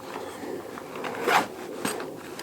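Zipper on a small front pocket of a hiking backpack being pulled shut in a few quick rasping strokes, close and fairly quiet, with soft handling noise around it.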